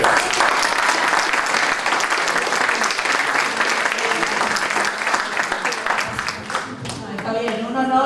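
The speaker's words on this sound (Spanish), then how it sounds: "un aplauso para los que se" An audience at a medical lecture on immobility and pressure ulcers gives sustained, even applause that thins toward the end, where a voice begins speaking over the last claps.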